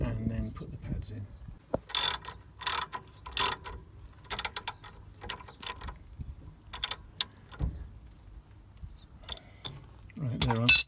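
Ratchet wrench tightening the brake caliper bolts on a Mercedes SLK R170 during a rear disc and pad change, heard as several short bursts of close clicking spread across the clip with quiet gaps between them.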